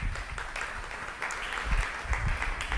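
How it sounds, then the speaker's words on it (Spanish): Congregation at a Spanish-language evangelical church service breaks into steady applause, a dense continuous clapping that swells slightly toward the end, with no clear speech over it. "¿Cuántos aplauden al Eterno?"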